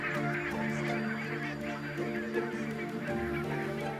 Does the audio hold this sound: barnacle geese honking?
yes